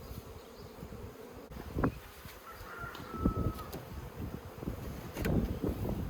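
Honey bees buzz around a hive frame during queen rearing, a steady hum with a few louder passes close by and light wind in the background.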